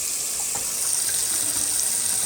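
Water runs from a kitchen tap in a steady, hissing stream at good pressure, continuous and moderately quiet, with no voices.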